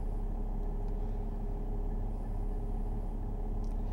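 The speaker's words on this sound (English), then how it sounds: "Car has a very beautiful idle." A 2009 Mercedes E320 Bluetec diesel idling steadily, a close, even low rumble with a faint regular engine pulse and no other sounds.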